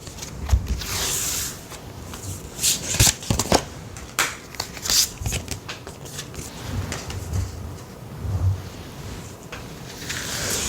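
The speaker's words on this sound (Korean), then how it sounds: "그럼 조언의 카드 한 장 볼게요." Tarot cards are shuffled and drawn by hand: crisp riffling and sliding bursts with sharp flicks and snaps, close and fairly loud, and no one speaking.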